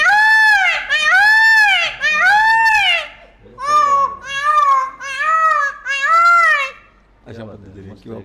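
A man imitates a peacock's call with a series of loud, wailing, nasal cries, three sharp ones and then three longer ones, close up, followed by a brief bit of speech.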